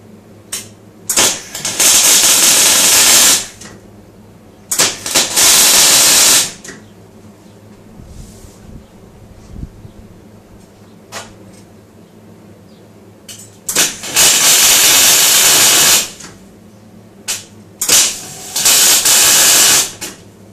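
Tack welding on a steel frame for a BMW electric conversion, heard as five loud bursts of bright welding crackle and hiss lasting one to three seconds each, separated by quieter pauses with a low hum beneath.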